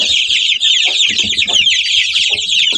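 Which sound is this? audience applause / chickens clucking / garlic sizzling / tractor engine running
chickens clucking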